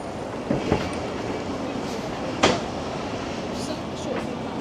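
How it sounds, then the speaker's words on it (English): A train rolls through Copenhagen's train station, a steady rumbling wash of rail noise with faint clacks and a few sharper metallic clicks, heard moderately from the platform amid echoing station ambience. "So here's the train station."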